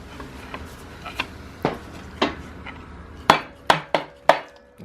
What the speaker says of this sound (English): Might just need a bit of a hammer.